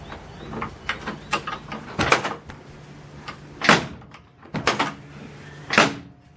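Door of a 1969 Ford Falcon being opened and shut several times, sharp metallic latch clunks and thuds spaced a second or two apart, close up with faint clicks between.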